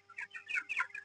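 Chickens on a poultry farm cluck in a short quick burst of several soft, nasal notes, close by but quiet.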